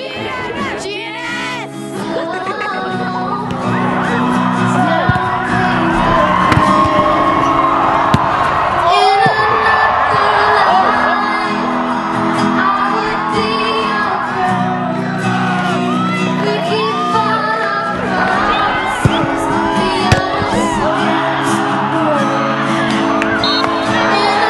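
A school crowd at the Colonist Cup final keeps up steady cheering, shouting and applause, dense and loud without a break, with voices whooping over the continuous roar.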